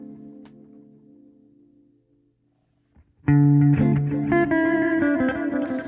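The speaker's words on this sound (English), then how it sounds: "Or just a slight amount of reverb like this" An electric guitar played through a Line 6 Helix Stadium XL with a slight amount of reverb: a sustained chord fades to silence, then a loud, bright strummed chord rings out with a short reverb tail.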